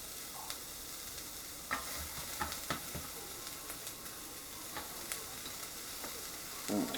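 A regular old yellow onion, half of one, sautés in a pan while being stirred until softened for a Thai coconut shrimp soup. Steady quiet sizzling runs throughout, with scattered clicks and scrapes from the stirring.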